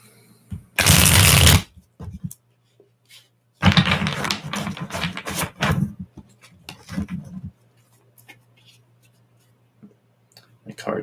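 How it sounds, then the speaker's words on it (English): Tarot cards being shuffled by hand in two loud bursts of riffling and flicking, the second longer and scrappier, with scattered taps and a few quieter card sounds in between and a steady low hum underneath. "My card just kind of fell off a bit as I was shuffling."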